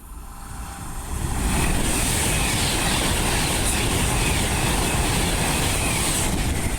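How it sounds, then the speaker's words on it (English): A Class 390 Pendolino electric express on the West Coast Main Line at Acton Bridge rushes past close by, a loud sustained roar of wheels and rails swelling in within the first two seconds and holding steady. "the next train to be coming through will be a Class 390 Pendolino running from London"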